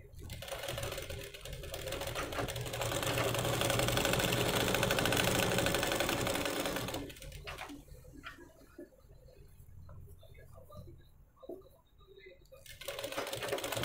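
Sewing machine stitching an umbrella-style dress, running in a loud steady whirring burst for about seven seconds, then stopping and starting in shorter runs, with someone talking over and between the stitching.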